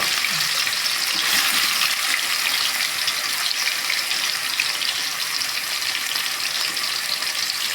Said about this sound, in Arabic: هننزل فيها باللحمه، هنديها تشويحه كده